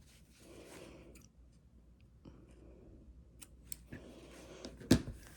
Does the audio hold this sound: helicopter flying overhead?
no